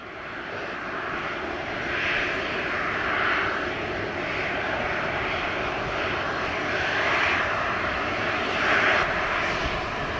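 An airplane on approach to Sangster International Airport in Montego Bay, Jamaica, roars loudly and steadily, its engine noise swelling slightly as it passes close by.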